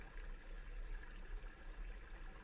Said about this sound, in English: the waterfall sound stops